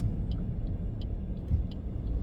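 A car passing on a road near a roundabout, heard from inside another vehicle as a steady low rumble that swells slightly midway.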